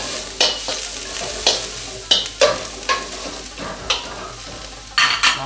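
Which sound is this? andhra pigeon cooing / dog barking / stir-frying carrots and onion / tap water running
stir-frying carrots and onion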